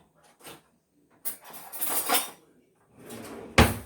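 Someone rummages in a kitchen drawer for another knife: short metallic clinks and a longer clattering rattle of cutlery, ending with a sharp knock as the drawer shuts, all close by.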